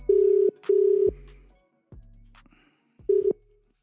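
A landline telephone being dialed on a radio show, with a few steady beeping tones in short separate pulses and soft clicks between them, clear and close.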